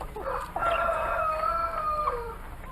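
A chicken clucks and gives a drawn-out crowing call, loud and close, with no voices and only a faint background hiss.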